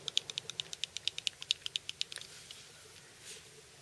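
Rapid light clicks from the liner lock of an Enlan EL-01 folding knife as the loose blade rocks with vertical play, about a dozen crisp ticks in quick succession that then fade out.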